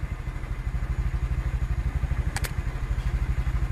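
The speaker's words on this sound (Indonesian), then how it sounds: "Dalam kondisi hidup motornya" A motorcycle engine idles nearby with a rapid, even thumping pulse, loud and steady throughout, with a brief sharp click partway through.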